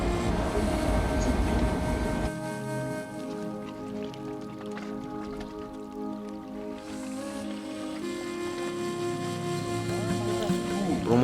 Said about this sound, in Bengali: ট্রেন আসছে। রাজধানী যাচ্ছে।